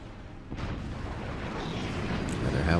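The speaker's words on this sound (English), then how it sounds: "But those howitzers are about to target the next player." Howitzer artillery in a strategy video game, a continuous low rumbling roar of distant fire and impacts that builds slightly in loudness, with no distinct separate shots and no speech.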